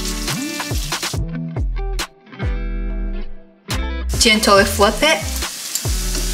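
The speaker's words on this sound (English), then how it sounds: "Now I'm gonna fry the donut." Chinese twisted donuts deep frying in oil at 350 Fahrenheit, a steady loud sizzle and bubbling with short breaks, while a person talks over the frying.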